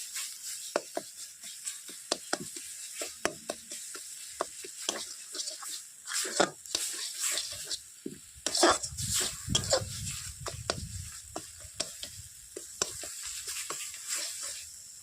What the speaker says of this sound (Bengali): আলু মটর সেদ্ধটা দিয়ে দিচ্ছি।